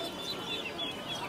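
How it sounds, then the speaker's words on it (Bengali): Pakistani chicken chicks at a pet animal market make faint, high chirping peeps over a steady murmur of crowd noise. "ভাই এগুলো কি মুরগি বাচ্চা?"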